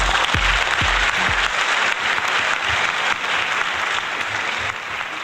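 Audience applause welcoming a speaker at a film carnival in Hyderabad, a steady, dense clapping from a large crowd that holds for the full stretch, with a few low thumps near the start.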